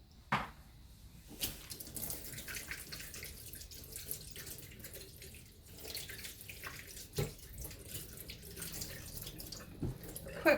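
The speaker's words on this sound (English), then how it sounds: "quick rinse of my hands" Water runs quietly from a tap as hands get a quick rinse, a soft faint trickle with occasional splashes and clinks close by.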